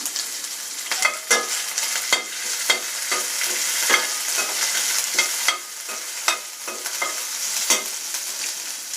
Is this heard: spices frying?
yes